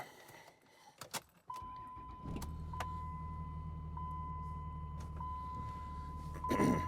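A truck engine idles steadily with a low rumble and a thin sustained whine, preceded by a few clicks and clatters.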